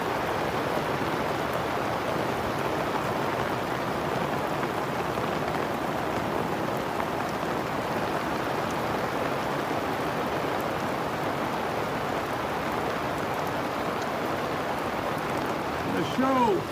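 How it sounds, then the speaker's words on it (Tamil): Steady, heavy rain pours down without a break, a dense even hiss of drops close by that fills the whole stretch with no voices. "ركب علينا المطر"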